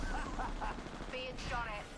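Gunfire from the battle royale game Apex Legends, several quick bursts of shots with a voice talking over the sound.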